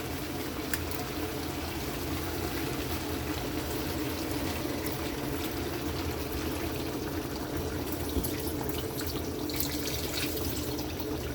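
Second-press coconut milk is poured into a cooking pot for ginataang langka. It makes a soft, steady, continuous liquid pouring sound at low volume throughout.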